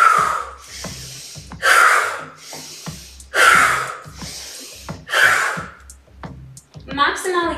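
Deep, forceful breaths in and out during an evening relaxation breathing practice, loud and close, repeated in a slow rhythm of long breathy exhalations with brief voice sounds between them.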